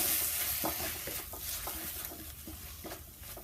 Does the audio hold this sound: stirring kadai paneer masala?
yes